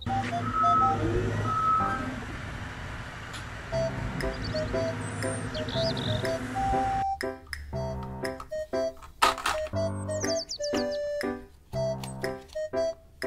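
An excavator truck gives off repeated reversing beeps, evenly spaced and clear, over a rumbling engine with scattered mechanical clatter.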